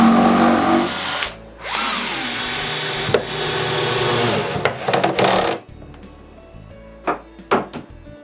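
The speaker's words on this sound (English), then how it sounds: "drill chamfer holes on the base" A power drill bores chamfer holes into a wooden nightstand base in several loud, whining bursts, each spinning up and cutting out, followed by short clicks and knocks of the tool being handled.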